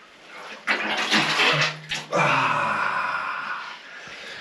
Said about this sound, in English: The cistern is overflowing.